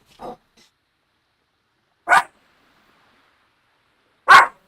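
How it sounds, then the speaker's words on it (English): A pet dog barks in a quiet room during a World of Warcraft-style game session, giving three short, separate barks spaced about two seconds apart, the last two louder and sharper. "Anytime you hear my dog bark, it's from one of two things."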